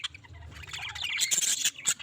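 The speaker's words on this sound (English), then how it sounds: "I hope guys you will like the natural sound of my parrots" Pet parrots give a quick burst of squawks and chirps, faint at first over a low background hum, then sharper, brighter calls crowd together near the end.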